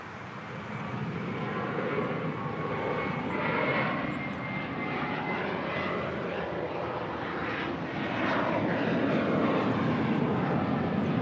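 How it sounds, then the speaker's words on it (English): An EVA Air Cargo Boeing 777 on short final to runway 25 left at LAX gives a steady, loud jet-engine roar that swells slightly as it draws closer. "You do have that EVA Air Cargo 777 short final for 25 left."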